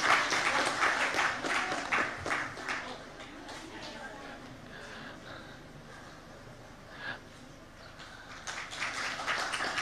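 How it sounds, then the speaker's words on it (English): Scattered applause from an audience at a climate dialogue opening ceremony in Nepal, welcoming the keynote speaker; strongest at first, then thinning to sparse claps and swelling again near the end, with voices talking underneath. "Please, a round of applause for our keynote speaker"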